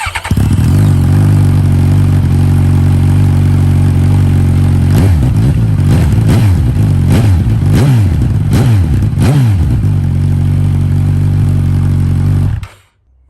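Suzuki GSX-S1000 with a Yoshimura exhaust and the baffle removed, loud and close, idling with a steady low rumble and then blipped through a rapid series of sharp revs before settling back to idle.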